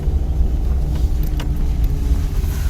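Car climbing a hill in first gear, a constant low engine rumble and road noise heard from inside, steady and moderately loud with no talk.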